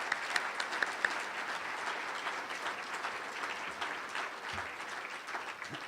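An audience at a 2012 State of the County address applauds steadily for about six seconds, a dense wash of clapping from a large crowd with a few sharper claps standing out near the start.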